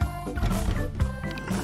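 A cartoon elephant calf trumpets in a loud, roaring blare with a bright tonal whine, layered over music in a short burst.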